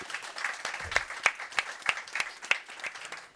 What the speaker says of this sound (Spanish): que le demos un aplauso por favor a nuestros panelistas